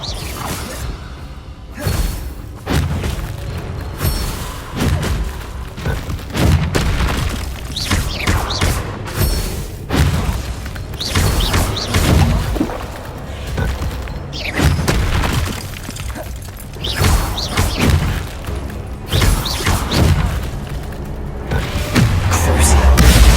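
Blasts from the Bombarda spell in the Hogwarts Legacy video game land as repeated booms, thuds and whooshes during a fast magical duel, with occasional voices between the impacts.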